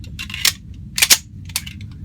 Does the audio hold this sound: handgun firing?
yes